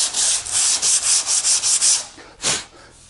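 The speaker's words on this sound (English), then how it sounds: "because there's so little sanding to do, I'm going to start with 80 grit instead of going down to 36" Coarse 80 grit sandpaper rubs back and forth along a wooden edge in about eight quick, rhythmic strokes, then a short pause and one last longer stroke, loud and close.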